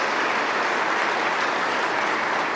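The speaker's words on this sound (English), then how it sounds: "So I want to give you a big round of applause" Dense, even audience applause fills the room at a government announcement of auto sector funding, loud and continuous throughout with no voices standing out.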